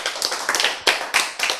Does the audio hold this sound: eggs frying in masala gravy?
no